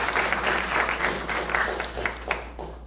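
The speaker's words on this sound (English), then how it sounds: "let's give her a round of applause" A live-show crowd in Lauderhill gives a round of applause, dense overlapping clapping that holds steady throughout at a fairly close, even level.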